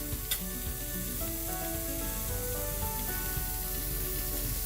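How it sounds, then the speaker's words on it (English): Onions and a burger patty sizzle on a grill in a loud, continuous crackling hiss that stays steady throughout, close up with no voices. "Break up your onions, get that nice and brown, and we're going to wait for our patty to cook"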